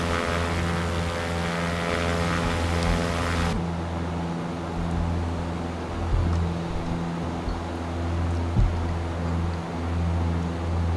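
A propeller aircraft engine in the flight simulator X-Plane 11 drones with a loud, steady tone throughout, and its pitch and texture shift slightly early on as the engine settings change.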